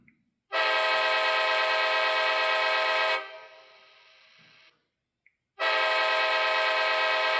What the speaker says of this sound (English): And the horn.